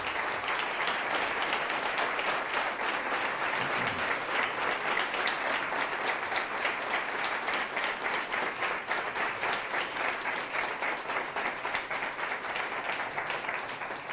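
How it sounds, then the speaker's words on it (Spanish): A conference audience in Madrid gives sustained applause, dense rapid clapping from many hands that holds steady at full strength for over fourteen seconds without pause. "os pido a todos un aplauso para Juan Antonio Llopart."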